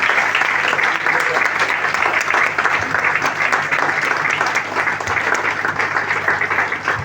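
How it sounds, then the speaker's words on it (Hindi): Sustained, thick applause from a seminar audience in a Prayagraj hotel greeting a speaker, many hands clapping steadily for several seconds, loud and near, with some talk blended underneath. "जोरदार तालियों से।"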